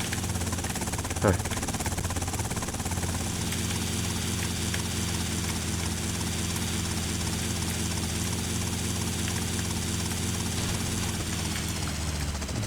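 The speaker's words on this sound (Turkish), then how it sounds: "İndirebilirsem helikopteri." A helicopter in the GTA Vice City Tightened Vice mod drones steadily with loud, continuous rotor and engine noise throughout, with a brief whoosh near the start and a voice speaking at times underneath.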